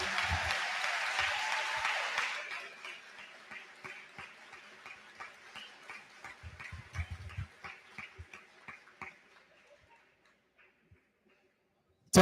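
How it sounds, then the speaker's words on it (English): Applause for a graduating class at a school graduation ceremony, starting as a full, dense round of clapping that thins after a couple of seconds into scattered individual claps and dies out. "give a quick round of applause for this group, the class of 2026."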